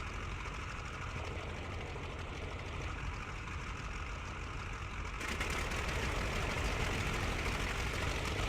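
A World War I aircraft engine in the Rise of Flight flight simulator, first a low rumbling idle, then a step up into a louder, denser running drone partway through, with no speech.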